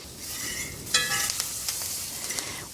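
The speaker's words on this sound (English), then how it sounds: "put the butter in there, and the garlic, the rosemary, and the thyme, and stir it around with the fork or your tongs" Butter sizzling and frying in a pan with garlic, rosemary and thyme, a steady close hiss broken by a few soft clinks of a fork or tongs stirring.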